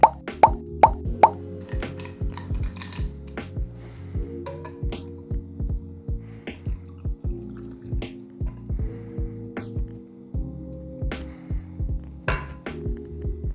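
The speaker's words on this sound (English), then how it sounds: "And now what you can do is add more of your ice." Ice cubes dropped one after another into a Garibaldi cocktail glass of orange juice, a close run of sharp plops and glassy clinks, quick at first and then spaced out, with no talking.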